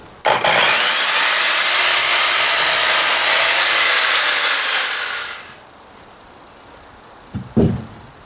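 Power saw squaring the end of a rough lumber stud for a garden shed wall, one loud close sustained cut with a rising whine that winds down, followed by a brief knock of wood.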